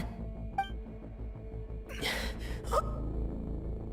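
A character in Genshin Impact gasps sharply for breath, heart racing: two or three ragged, breathy intakes come midway over a low, steady game music bed, close and fairly loud, with one faint chime near the start.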